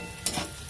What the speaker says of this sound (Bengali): মশলাটা কষানো হোক এবার ভালো করে